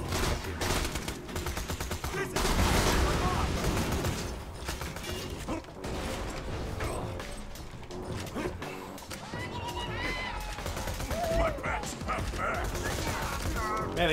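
Rapid SMG gunfire in Borderlands 2, dense fast bursts with mechanical clatter running almost continuously and loud throughout, mixed with other game effects.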